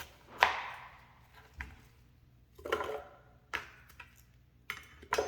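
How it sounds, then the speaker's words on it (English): Onions sliced with a knife on a cutting board: five separate crisp chops spaced about a second apart, each a sharp close thud with a short ring-off, quiet between strokes. "So just going to slice my onions up"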